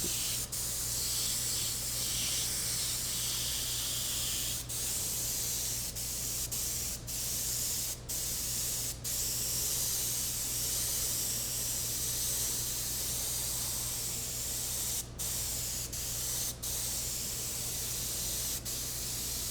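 Spray paint hisses from a can in one long, loud, steady blast while shadowing a faux wood finish, broken only by a few brief dips in the spray.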